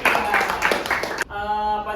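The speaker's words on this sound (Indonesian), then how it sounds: "Tepuk tangan dulu." A classroom of students claps in a few quick rhythmic bursts for about a second, then the clapping stops abruptly and a sustained tonal sound takes over.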